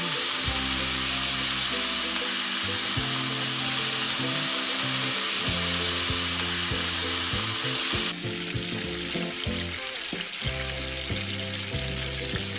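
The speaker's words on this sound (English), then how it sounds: "Turn to high heat and add the eggs." Beaten eggs hit a hot wok on high heat for ham and egg stir-fried noodles, a loud continuous sizzle and hiss, close up, with a brief drop in intensity partway through.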